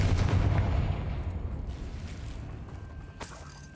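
Confringo blasting spell in Hogwarts Legacy: a low booming burst that rumbles and fades, then a sharp crackling snap near the end, with no talk over it.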